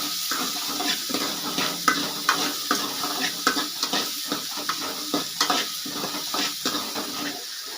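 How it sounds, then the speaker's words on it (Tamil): Onions sauté in a hot pan as a spoon stirs them, giving a steady sizzle broken by repeated scraping strokes, close and continuous with no talking. "வெங்காயம் லைட்டாக வதங்கட்டும்"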